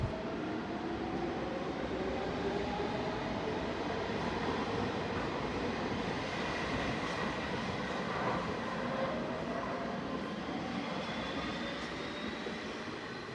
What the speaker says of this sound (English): there's already a train in the station and en route to my intended destination